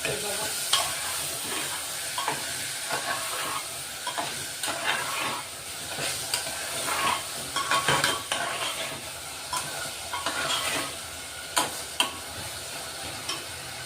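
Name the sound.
sautéing chana dal with bottle gourd in a pan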